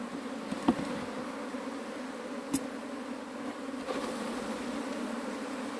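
Honeybees droning steadily at an opened hive during a queen change, a dense continuous buzz filling the whole stretch at moderate level, broken by a couple of faint clicks.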